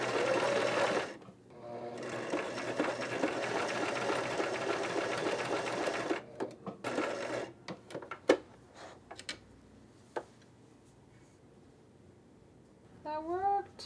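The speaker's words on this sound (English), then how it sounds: "I'm gonna sew the buttonhole closed with the machine as well" A sewing machine runs steadily for about five seconds, stitching through two pinned fabric layers during a mending session, then stops and restarts in short bursts amid small handling clicks.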